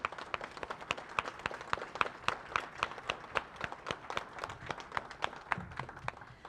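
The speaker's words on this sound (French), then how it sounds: "Puis j'aimerais prendre un applaudissement pour les employés de la ville." A modest audience at a city swearing-in ceremony claps in honor of municipal staff, with distinct, fairly sparse individual claps in a loose, uneven rhythm at moderate volume.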